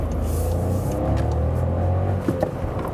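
A Skoda Fabia pulls hard through second gear, its engine note rising in a steady, moderately loud drone heard from inside the cabin, with no talking, ending in a brief dip as the throttle eases.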